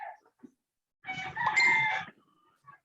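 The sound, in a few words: rooster crowing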